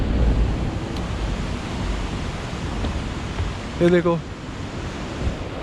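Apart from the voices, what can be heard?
water rushing out through Nangal Dam gates into canal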